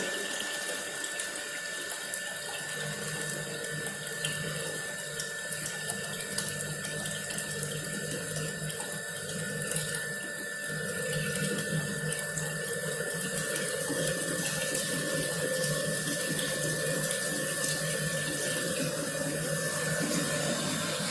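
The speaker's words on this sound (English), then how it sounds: "I increase the velocity of water and that strikes to your blade and water plate is lifted." Water pumped through a nozzle as a jet onto a plate in a lab impulse-momentum apparatus, a steady loud rushing and splashing hiss that runs throughout, growing slightly stronger partway through.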